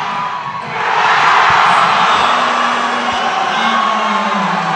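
A basketball gym crowd erupts in loud, sustained cheering and whooping after Radner's slam dunk, swelling after the first second and holding as a roaring wall of voices.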